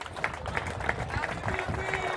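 Applause and clapping from a gala crowd at an amateur football awards evening in Caorle, honouring the owner of the La Vela Beach Life kiosk; a steady, moderately loud patter of hands with voices mixed in.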